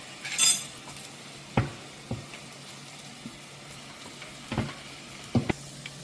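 Onions sauté in a pan for a pepper crab curry, a soft continuous sizzle broken by a few sharp clinks and scrapes of a spoon against the pan, close and alone without talk.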